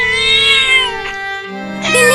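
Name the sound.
cartoon cat crying, meowing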